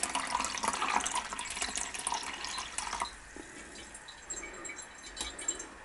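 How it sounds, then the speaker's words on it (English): Liquid poured into a container during gold recovery from BGA chips, a steady close splashing trickle that eases to a quieter pour with scattered drips partway through. "So essentially we'll just start pouring some of this in,"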